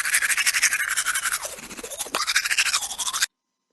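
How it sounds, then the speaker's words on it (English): Teeth being brushed in a children's Ballyland keyboard program, a loud, close, rapid back-and-forth scrubbing with a short pause midway, then abrupt silence. "Brushing teeth."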